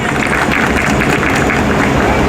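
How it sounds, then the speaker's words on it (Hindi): An audience at a Hindi comedy poetry gathering applauds loudly and continuously, a dense wash of clapping from a crowd that fills the whole clip. "एक बार जोरदार तालियां, एक बार पहले जोरदार तालियां"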